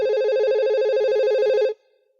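Telephone ringing with a bright warbling electronic tone, one continuous burst of about a second and a half that then cuts off into silence, clear and close.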